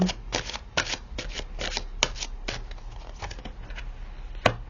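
Cards being shuffled up close during a tarot reading, a quiet run of crisp riffling bursts and light slaps at an uneven pace.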